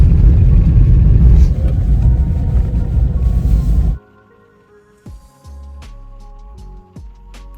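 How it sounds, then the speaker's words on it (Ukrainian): A car engine running loudly with a steady low rumble, cutting off abruptly partway through, followed by quieter intermittent clunks and knocks in a parked car. "Ти будеш заводити машину?"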